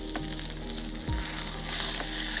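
A steak sears in a hot pan, giving a constant close crackling sizzle with a low hum beneath and a brief dull thump partway through.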